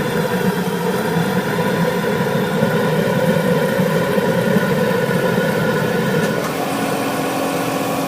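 A steady roaring waste oil burner drone with a constant mechanical hum, loud and unbroken throughout, shifting slightly near the end.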